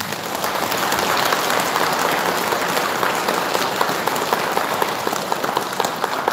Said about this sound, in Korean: 오늘 다시 한번 힘을 실어서 박수 한번 드리겠습니다.